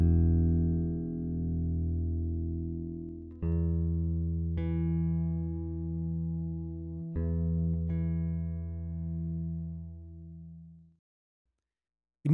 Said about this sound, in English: The musical example for this video is a funky disco type track, and the use of octaves is characteristic to this style of music.